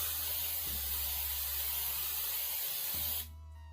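Spray paint can hissing a coat onto bottles, a steady close spray lasting about three seconds before cutting off abruptly.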